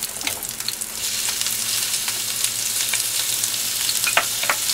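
Shrimp frying in a pan with garlic and mushrooms, a dense continuous sizzle and crackle close up, with brief spattering pops and light scrapes toward the end.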